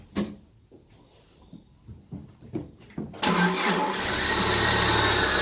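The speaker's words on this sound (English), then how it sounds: "now we'll start it and see if it's still squealing" Jeep Wrangler TJ with the 2.5 four-cylinder engine, after a belt tightening: a few quiet clicks and rattles, then a loud starter crank that catches and settles into a steady, close idle.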